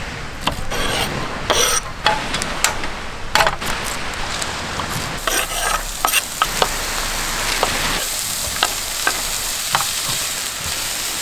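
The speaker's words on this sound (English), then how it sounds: "we got the onion, carrot and capsicum in first, let that soften up a bit" Onion, carrot and capsicum fry in a pan over a campfire outdoors: a constant sizzle runs under repeated scraping and clacking strokes as the vegetables are stirred, close and fairly loud, with no talking.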